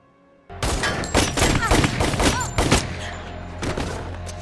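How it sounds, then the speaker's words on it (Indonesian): Burst of gunfire in a film shootout, rapid overlapping shots and thumps erupting suddenly after a brief quiet and continuing loud and dense to the end. "Tembak-tembakan pun tak bisa dihindarkan."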